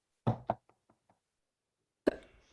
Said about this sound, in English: when there was a knock at the door